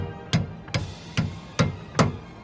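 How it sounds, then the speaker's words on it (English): A hammer striking a pin into a Mercedes brake caliper, five sharp metallic knocks spaced about half a second apart, close and loud with short ringing tails. "you want to hammer this, and once it's all the way in, you want to pay attention to the sound it makes as it hits"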